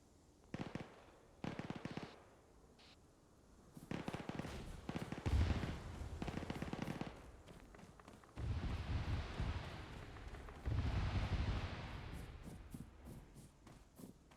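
Bursts of grenade machine gun fire in Arma 3 during a night battle, a string of rapid thumping shots and booming explosions that come in several clustered volleys, some distant, some closer.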